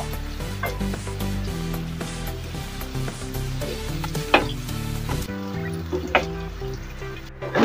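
Onions fry briefly in a pan for an aloo lobia dish, a steady close sizzle broken by occasional stirring scrapes.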